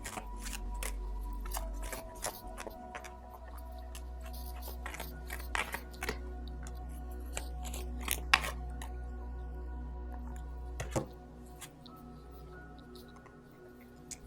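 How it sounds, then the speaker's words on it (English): Tarot cards are shuffled and pulled from the deck, giving a run of crisp papery flicks, snaps and slides, close up, over a soft sustained tone, with no talking. "let me pull out a few more cards to check out the dynamics here"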